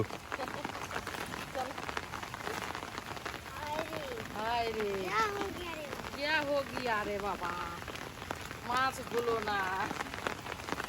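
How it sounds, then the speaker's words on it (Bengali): Heavier rain falls across an open field during net fishing, a dense, steady rush of drops with voices talking over it in bursts. "বৃষ্টি এবার জোরে আসছে"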